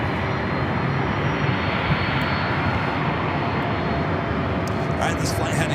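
Boeing 767-400ER airliner bound for Atlanta, its jet engines roaring loud and steady at LAX, a continuous broadband rumble with no break.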